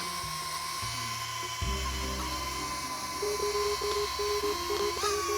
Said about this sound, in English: I will take off with the drone.